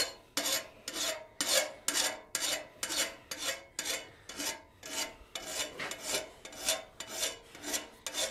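A metal file rasps across a gothic door knocker in steady back-and-forth strokes, about sixteen even, close, loud passes with brief pauses between them.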